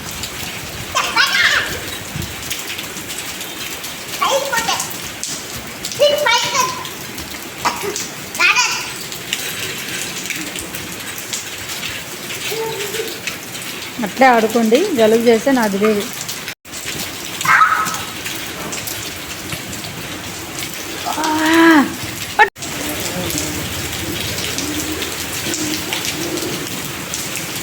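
Heavy rain pours down steadily and loudly while people talk over it.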